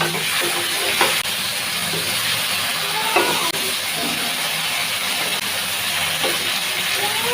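A little water added to a frying curry of cauliflower, potato and flat beans, raising a loud, steady hiss of steam and sizzle close by, with a few faint knocks of utensils and no talk.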